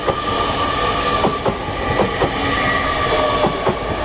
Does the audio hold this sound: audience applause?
no